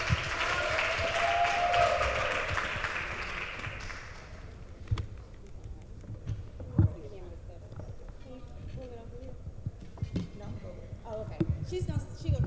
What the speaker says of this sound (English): Our last speaker, Toyin Fadina. Clap it up.